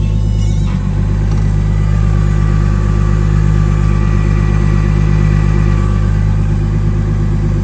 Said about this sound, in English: you can definitely hear it in the driving video how it whines really bad